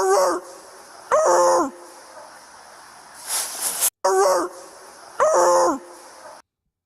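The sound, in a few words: police dog barking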